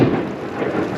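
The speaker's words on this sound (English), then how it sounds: "that was a crazy bolt of lightning right in front of me, and very loud thunder" Very loud thunder from a lightning strike close by during a rainstorm in rural Portugal, a heavy booming rumble filling the whole second over steady rain.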